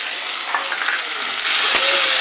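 Potatoes sizzle and fry in a pan with ginger, tomato and green chili paste plus turmeric, salt, cumin, coriander and chili powder, for a mixed dal bori curry. A steady, close hiss with faint stirring and no voices.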